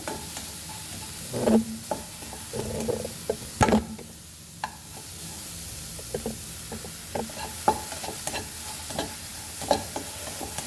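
Onion fries in a pan over a low flame with no oil, giving a soft continuous sizzle broken by repeated scraping and stirring knocks of a utensil, close, with no one talking.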